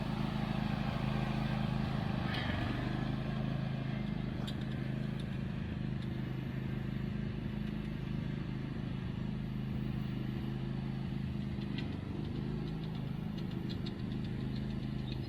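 A Husqvarna riding mower's engine runs steadily while the mower drives along, a loud, constant low drone with faint knocking in its tone, close by and with no talk over it.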